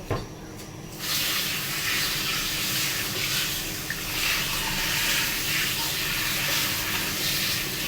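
Steady rushing hiss of water boiling in a pot, loud and close, with a continuous bubbling roar that starts abruptly and holds evenly.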